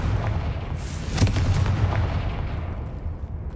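Confringo fire-blast spell in Hogwarts Legacy: a sharp explosive burst cuts through a low, steady game rumble, with a brief flare and fading tail. No talking.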